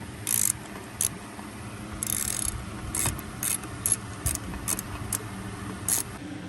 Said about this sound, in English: To take that screw off from the lower unit, you're gonna now need an